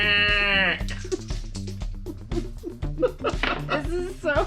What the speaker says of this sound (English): The sheep are loud.